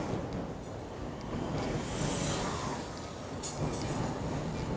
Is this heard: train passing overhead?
yes